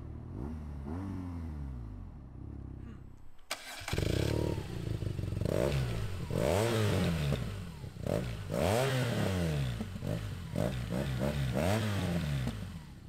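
A BMW R nineT Scrambler's 1200 cc twin-cylinder engine idles, then revs repeatedly in rising and falling bursts, throaty and close, with mechanical clatter between the revs.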